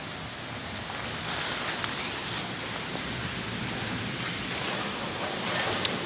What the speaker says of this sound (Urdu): بارش آ رہی ہے بہت زور سے